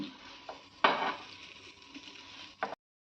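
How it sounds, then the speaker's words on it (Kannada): An eggy bread burger is flipped in a pan with butter, giving a soft sizzle broken by a thump of the turn and a brief scrape of a utensil near the end. "ಈಗ ಅದನ್ನು ತಿರುವಾಗ್ತಾ ಇದ್ದೇನೆ. ಸೊ ಆ ಕಡೆಯೂ ಫ್ರೈ ಮಾಡ್ಕೊಳ್ಳಿ."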